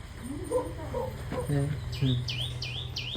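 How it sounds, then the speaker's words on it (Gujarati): Sparrows chirp in short repeated bursts nearby under a neem tree in a village, with a rhythmic series of rising chirps toward the end and a low hum underneath. "ચકલા બપોરા કરે છે"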